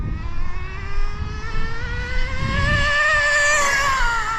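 A Nitro Slash RC car's nitro engine screams at half throttle, a high buzzing whine rising steadily in pitch as it speeds along, fairly loud and alone.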